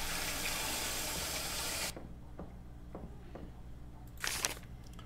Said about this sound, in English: Okay, flush toilet.